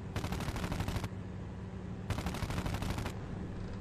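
Aircraft machine guns fire in two rapid sustained bursts, each about a second long, loud and close over a steady engine drone in the IL-2 Cliffs of Dover combat flight game.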